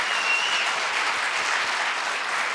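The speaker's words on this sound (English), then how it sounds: "Let's give them a round of applause too." An audience at a Detroit small-business contest event gives a round of applause, a steady wash of many hands clapping at moderate level for a few seconds, without speech.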